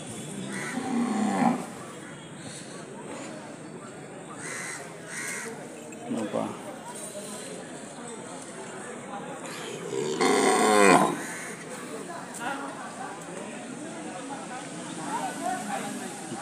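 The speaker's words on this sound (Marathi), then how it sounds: "अशा पद्धतीची देशी बैल इकडे विक्रीस आलेले असतात" Native bulls at a muddy cattle market after rain, with bovine grunts and lows among crow caws and busy crowd voices, peaking in a louder burst midway.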